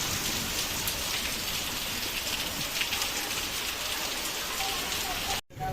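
Heavy rain pours steadily and densely, a loud, unbroken hiss of drops on surfaces close by, cut off abruptly at the very end.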